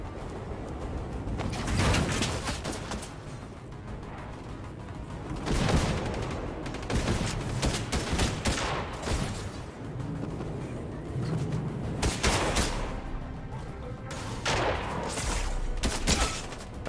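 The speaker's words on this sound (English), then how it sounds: "Somebody else is now shooting at me." Several Fortnite players fire guns at once, producing repeated loud bursts of gunfire in irregular clusters over the whole stretch, with no voices.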